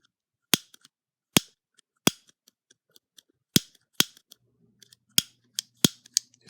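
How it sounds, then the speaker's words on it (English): A lighter-style automatic switchblade knife snapping open and shut repeatedly, sharp loud metallic clicks at uneven intervals with faint small ticks between them, close up in a quiet room. "this type of knife, which is called a lighter knife, lighter switchblade"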